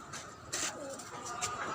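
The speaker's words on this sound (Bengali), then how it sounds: "এদিকে আমার কবুতর আছে, লাল সাদা কবুতর।" Red and white pet pigeons coo softly on a rooftop garden, a few low, rolling calls coming in short bursts at a moderate distance, with no voices.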